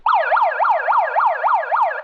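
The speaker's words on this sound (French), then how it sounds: "Avec cette sirène-là, vous saurez, le jeu s'arrête et c'est le départ d'une nouvelle activité" Loud electronic siren marking the end of a game round, a rapid repeating wail that rises and falls in even cycles, close and alone.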